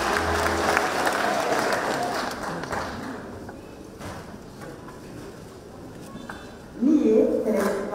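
Wedding guests at an ACK church ceremony in Kanunga, Kiambu, clap together in a fading round of applause, with a voice speaking near the end.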